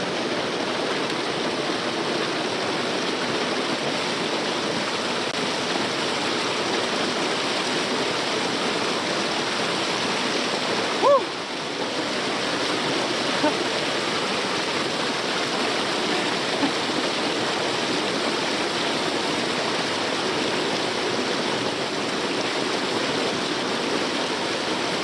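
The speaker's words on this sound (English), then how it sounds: "I just couldn't imagine a better reward than to bathe in that little waterfall." A small three-foot waterfall and stream in the desert rush steadily and close, a constant broad splashing wash that holds evenly throughout with only a faint brief knock partway through.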